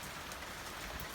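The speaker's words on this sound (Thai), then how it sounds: "เอาบรรยากาศฝนตก" Steady rain falls and patters on surfaces, a soft, even hiss of drops throughout the brief moment, with no voices.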